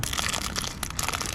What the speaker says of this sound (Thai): ห่อพลาสติกอะเสียงดังดัง